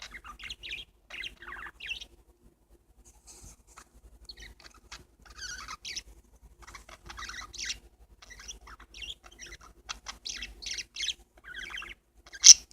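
Pet parakeets chirp indoors in short, high twittering bursts scattered across a quiet room, fairly close, with one sharper call near the end and no talking.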